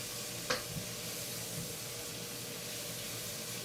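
Garlic and shallots fry in a pan for gravy, giving off a steady, soft sizzle with a brief clink near the start.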